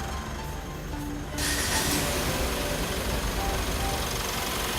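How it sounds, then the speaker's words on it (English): A car with a flat battery, jump-started from a second vehicle, cranks and fires, its engine then settling into a steady loud idle that carries on to the end. "So now we'll start the vehicle with the flat battery."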